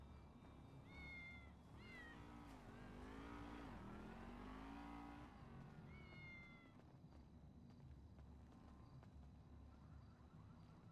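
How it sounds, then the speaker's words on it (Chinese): A cat meows in the video game GTA 5, a few clear, drawn-out rising and falling cries over a low hum of game ambience, with no talking. "你是不是猫咪"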